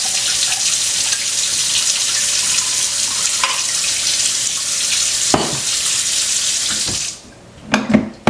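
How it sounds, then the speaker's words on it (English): Warm chicken broth being poured from a Pyrex glass measuring cup into jars, a steady close splashing trickle running for several seconds, then stopping, followed by a few brief glassy clinks and knocks. "I'm just going to use this Pyrex glass measuring cup to start filling these jars"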